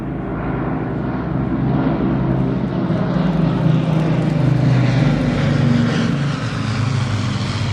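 A Lancaster bomber flies past at a VJ Day 80 flypast, flanked by a Hurricane and a Spitfire, their piston engines merging into a loud, sustained droning roar that swells slightly and holds steady.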